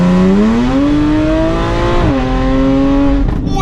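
A supercharged V6 in an Audi S4 B8 revs loud and close, its rising tone climbing steadily, holding, then dropping and holding again with a strong whine, alone without talk.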